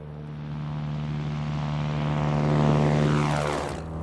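A propeller aircraft takes off from a runway at Mojave, its engine droning loud and close, swelling in pitch and volume, then sweeping past and fading at the end.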